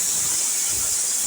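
A pressure cooker vents steam while cooking mutton with raw papaya, a steady loud hiss holding without a break for the whole moment, with no voices over it.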